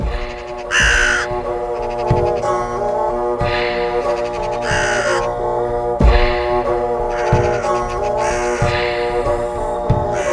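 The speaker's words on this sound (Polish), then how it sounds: "W koronach takich właśnie suchych i starych drzew żerowały kruki" Ravens caw again and again in harsh, hoarse calls, loud and close, with overlapping birds and no other sounds around them.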